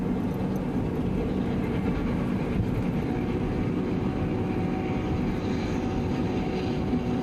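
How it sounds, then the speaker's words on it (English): A steady, broad rumble of a train, continuous and fairly distant, holding even throughout with no voices. "I think I hear a train coming."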